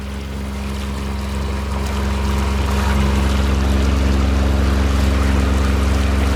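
Diesel-powered boat motoring away from a marina, its engine a loud, steady drone with rushing water and wind building slightly over several seconds, no voices.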